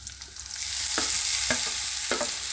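Grated potatoes frying in hot oil over a tempering of green chillies, a steady close sizzle broken by three or four scraping stirs of a spoon.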